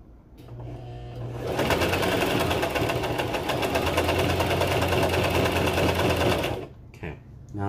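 A sewing machine stitches a cow print jacket, first idling softly, then running steadily in a loud, fast mechanical whir for about five seconds before slowing and stopping.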